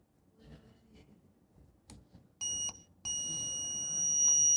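A Mr Yang YS-4470 multimeter in buzzer mode gives a short beep after some faint handling noise, then a loud, steady high-pitched tone that continues to the end.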